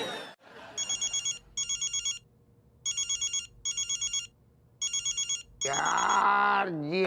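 A telephone bell rings in six evenly spaced bursts of rapid trilling, loud and close, followed by a burst of other noise at the end.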